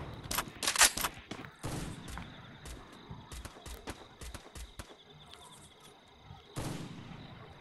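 Rapid bursts of gunfire in the Free Fire battle game, with sharp clusters of shots early on and another volley toward the end, set against a quieter background of scattered pops.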